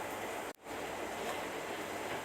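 Water poured from a glass into a cooking pan of potato and bottle gourd curry, a steady rushing splash with a brief break early on, then continuing evenly.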